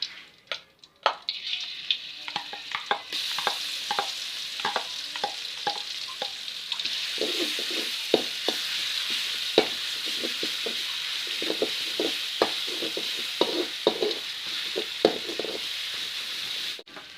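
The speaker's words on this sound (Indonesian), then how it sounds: "Kita tumis bumbu yang sudah kita haluskan" A ground paste of shallot, garlic, candlenut and chili sautéing in a pan, starting with a burst of sharp spatters that settles into a loud, steady sizzle with irregular crackles and occasional stirring scrapes, close up with no talk.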